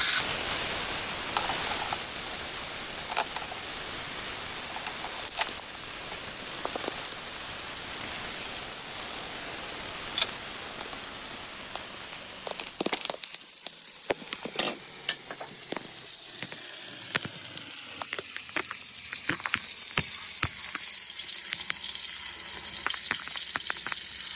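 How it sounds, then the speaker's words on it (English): Chicken fries in a pan on the stovetop, a steady close sizzle with crackling pops throughout, the hiss easing somewhat partway through. "I'm gonna cook it on this pan for 5 to 7 minutes on each side"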